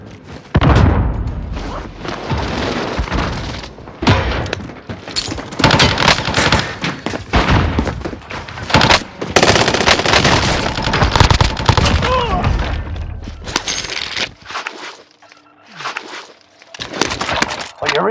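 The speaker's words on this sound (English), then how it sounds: "Enemy precision airstrike." A dense, chaotic barrage of precision airstrike blasts and gunfire in Warzone, with booming impacts and crackling bursts packed closely together, loud and continuous before briefly easing near the end.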